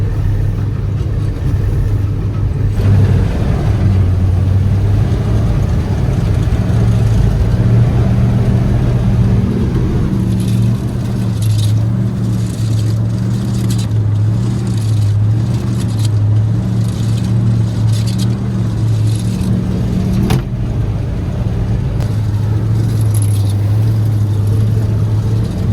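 A Bombardier J5 tracked vehicle driving through a swamp, its engine a loud steady low drone that rises and falls slightly, with rattling clanks from the tracks throughout.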